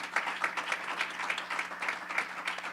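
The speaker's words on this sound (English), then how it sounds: "can you give my brothers and sisters a round of applause?" A small audience gives a round of applause, a few hands clapping in a steady, evenly spaced rhythm, moderately quiet, with a low hum underneath.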